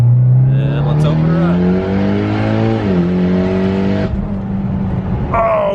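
A straight-piped Mitsubishi Evo 10 with open dump downpipe and test pipe accelerates hard through the gears at night, its loud raw exhaust climbing in pitch with shift drops, a voice speaking over it near the end.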